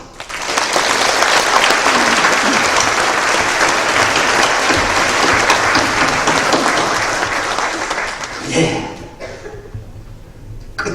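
A church congregation applauds in congratulation at a retirement and ordination service, loud, full applause from many people that holds steady before tapering off near the end.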